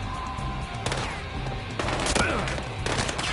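Gunfire in the video game Battlefield Hardline, a few sharp bursts of shots over a busy game soundscape with music and effects, fairly loud and close.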